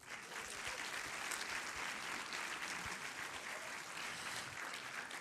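Steady, full applause fills a cinema hall at an avant-premiere screening of The Boy and the Heron, an even wash of many hands clapping at moderate loudness.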